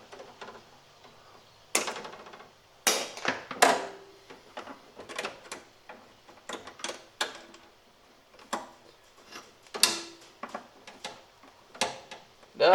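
Electrical wire for a 20 amp outlet circuit by the electrical panel being trimmed: a close, irregular series of sharp snips, clicks and small mechanical rattles with short quiet gaps between.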